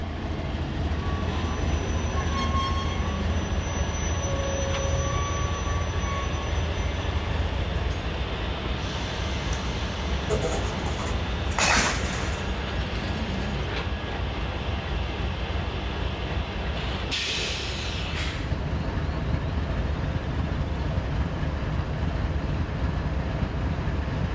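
CSX freight train I-141, 5,901 tons with 4,400 horsepower on the point and 8,800 horsepower of pushers on the rear, climbs the Cowan grade, its locomotives a steady, continuous rumble and drone lasting throughout.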